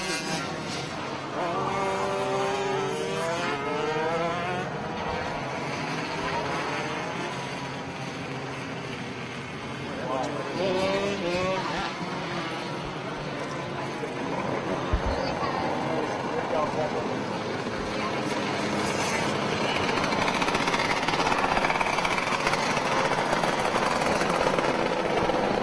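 Shifter karts race past the start-finish line, a dense, continuous buzz of high-revving small engines that swells and fades as the pack passes, with an announcer talking over the noise.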